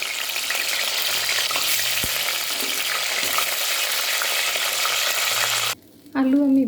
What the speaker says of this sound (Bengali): আলুটা একটু ভেজে নামিয়ে নেব।